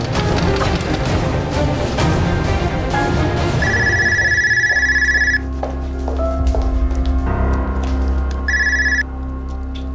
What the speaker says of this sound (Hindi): कुदरत साहब के घर से फोन आया है, फंक्शन का टाइम हो गया है।